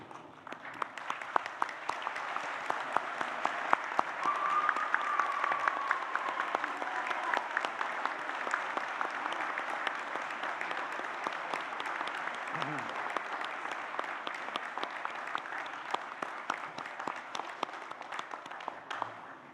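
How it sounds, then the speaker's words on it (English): At a university graduation ceremony in Newcastle, Australia, a standing audience applauds the graduates in steady, sustained clapping that continues evenly throughout, with faint voices mixed in. "I wonder if everyone could stand with my colleagues up here and applaud the wonderful achievement of these graduates"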